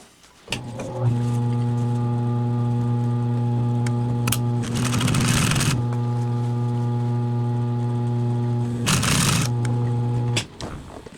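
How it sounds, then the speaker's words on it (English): Sewing machine stitching a cushion, a steady mechanical hum with a rhythmic buzz that starts after a second and runs nearly to the end, broken by two brief louder rustles of fabric being handled. "this is actually where I'm going to start sewing"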